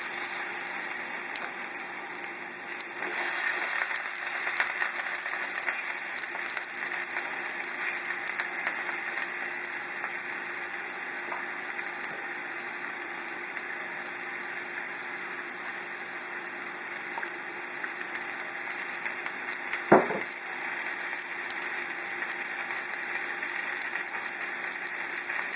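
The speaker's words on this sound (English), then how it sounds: "And now we're going to cook our chorizo and our shrimp." Chorizo and shrimp fry for a Spanish paella in a pan, a steady loud hiss and sizzle running throughout, with one brief sharp knock partway through.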